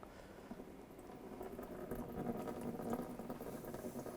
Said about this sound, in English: let the coolant drain out nice and slow